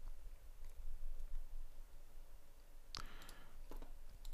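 A few faint computer keyboard clicks sound as shortcut keys are pressed, a short burst of taps rising over a quiet room hum.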